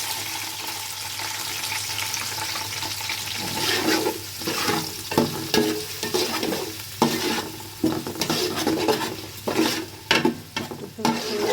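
Onions frying in hot mustard oil while being stirred for beef tehari, a steady close sizzle with scraping, clattering stirring strokes growing more frequent partway through, no talk.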